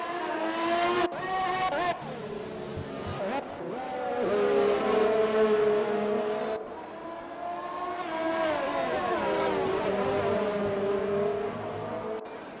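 Two Ferrari race cars battle at Monza in an Xbox racing game, engines whining and shifting through the gears in close pursuit, with a brief tire squeal and steady engine tone throughout.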